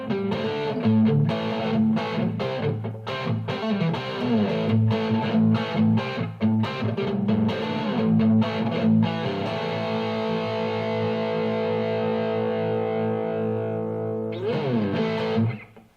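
Distorted electric guitar, a Squier Telecaster on its bridge pickup with high gain, with a bright, biting tone, chords and riffs strummed loudly, then a long sustained chord ringing out before a final slide.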